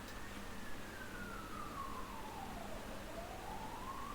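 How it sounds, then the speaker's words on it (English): An ambulance siren rises from the street far below, a faint, distant wail sliding slowly down in pitch and then climbing again over steady background hum. "You don't hear these ambulance sounds as loud on the street level as we do up here."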